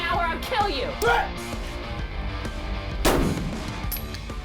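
Two gunshots crack out in quick succession amid shouted commands in a tense police-style threat scenario, loud and close, with voices yelling around them.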